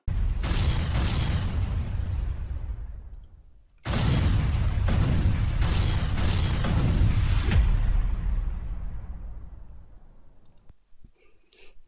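Video game explosions in rapid clusters, loud close booms and crackling bursts rolling together in two long barrages with a short gap between, then fading into scattered clicks.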